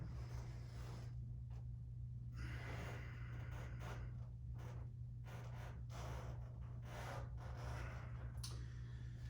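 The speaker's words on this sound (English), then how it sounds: "Inhale, exhale. Inhale, exhale. One more time." Deep, forceful inhales and exhales repeat during a mat workout breathing exercise, heard close over a constant low hum, each breath a long rushing sweep.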